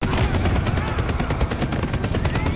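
Loud, relentless automatic gunfire from a scene in the TV series The Boys, rapid bursts of shots blending into a dense, roaring barrage for the whole short stretch.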